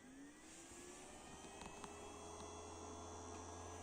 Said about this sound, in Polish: świeci, wentylator działa.